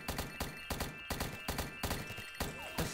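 Rapid gunfire from the online shooter XShot, a regular series of sharp, punchy shots of about three per second that carries on throughout, loud and close with no speech.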